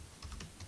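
Computer keyboard typing, a brief quick burst of four or five light key clicks close up, with no talk over it.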